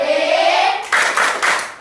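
Schoolchildren in a primary classroom perform a clapping chant: a sustained sung vowel at first, then three loud, rhythmic bursts of group claps in quick succession, close and bright, with no other talk.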